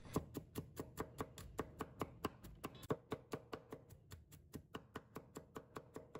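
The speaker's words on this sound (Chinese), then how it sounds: "把大蒜给它剁细一点。" Garlic being finely minced with a knife on a cutting board, a fast, even run of sharp close chops, around five per second, continuing steadily with no talking.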